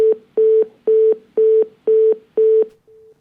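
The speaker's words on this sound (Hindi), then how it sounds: "शाही जी का शायद फोन डिस्कनेक्ट हो गया है" A steady telephone line tone sounds after a call disconnects, a clean beep repeated six times at an even rhythm, each lasting about a quarter second, followed by a quieter seventh tone, with no other sound around it.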